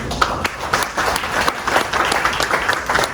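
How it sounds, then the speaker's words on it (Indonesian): Audience applause at a national seminar on improving laying-hen productivity, steady dense clapping from a crowd filling the room for a few seconds. "Berikan aplaus."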